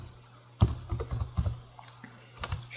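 Keys tapped on a computer keyboard while entering a value in Revit: a quick, irregular run of close, crisp keystrokes with short gaps and no talk.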